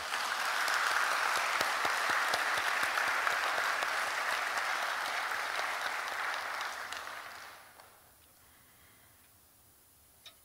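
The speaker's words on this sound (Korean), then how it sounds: "좀 박수 좀 보냈으면 감사하겠습니다" A church congregation claps steadily for several seconds at an afternoon service, the dense applause then tapering off and fading into near silence.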